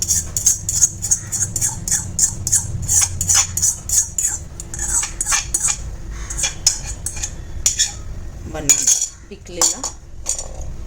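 A metal spoon mixes banana bun dough with cinnamon powder and oil in a bowl, clinking against its sides in quick, repeated strokes at close range with no talk.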